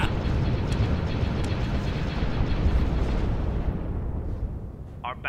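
Weapon fire and explosions from a space battle in the Sins of a Galactic Empire video game, a loud, continuous rumbling barrage of blasts that eases slightly near the end, with a brief voice at the close.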